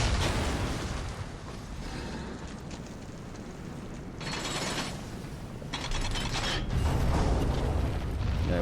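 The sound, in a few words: bombs being destroyed in the video game Darksiders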